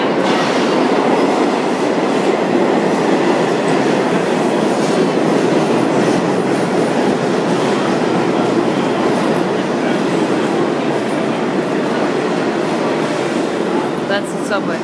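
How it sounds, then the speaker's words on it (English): A New York City subway train rumbles loudly and continuously with clattering wheels and a broad roaring noise, heard close up from inside or beside the train for the whole stretch. "That's the subway."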